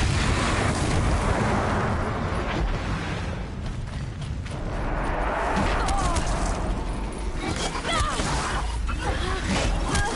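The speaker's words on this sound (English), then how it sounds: "Explosions in the distance." Distant explosions rumble in the video game Horizon Zero Dawn, a broad continuous roar with creaking mechanical noise and bursts layered through it, loud and sustained throughout.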